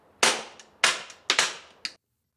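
Four rimfire .22 shots fire through a modular suppressor in its long configuration, each a sharp, close crack with a brief tail, spaced irregularly about half a second apart, with no talk.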